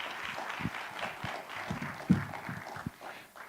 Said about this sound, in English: Would you greet the freshman orchestra and Mrs. Carroll with a nice round of applause?